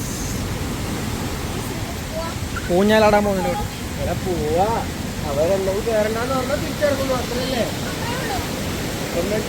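A steady broadband roar of surf on a Thailand beach at night fills the background while people talk and laugh nearby over it.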